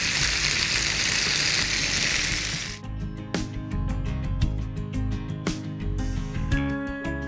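Spicy chicken wings frying in a pan, a loud dense sizzle for a few seconds that drops to a lower bubbling crackle with scattered spatters and clinks.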